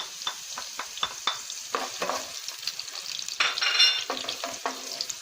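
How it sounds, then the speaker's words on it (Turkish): Mushrooms and onion sizzle in a hot pan while a utensil stirs and scrapes, with irregular clacks and a brief louder hiss of frying. "İşte böyle kavuruyoruz."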